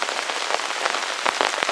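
Rain patters steadily on a surface at a forest bivouac during a thunderstorm, a dense, close hiss with scattered heavier drops and no voices.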